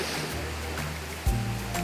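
Misol-Ha, a popular tourist waterfall on Mexico's Yucatán peninsula, pours with a steady, broad roar of falling water throughout, broken by one dull low thump just past the middle.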